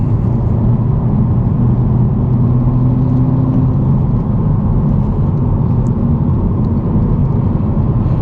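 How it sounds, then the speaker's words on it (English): A 2022 Honda Civic Si drives along back roads with a steady, close engine drone and road rumble that builds slightly as it accelerates, heard from inside the cabin without talking. "here we are driving the 2022 Honda Civic Si"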